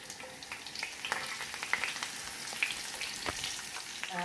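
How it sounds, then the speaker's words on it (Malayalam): Curry leaves sizzling in hot oil in a pan, a dense crackling fry with frequent sharp pops and spits, close and steady without any voices. "കുറച്ച് കറിവേപ്പില ഇട്ട് കൊടുക്കാം നമുക്ക് ചിക്കൻ ഫ്രൈ ചെയ്യുന്നതിന് മുമ്പ്"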